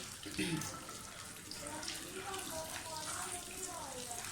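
Almonds frying in ghee in a hot pan, giving a steady, close, hissing sizzle that runs throughout, with a faint voice in the background.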